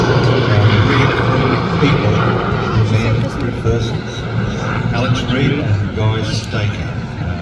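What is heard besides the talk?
Sea King helicopter flying at an air display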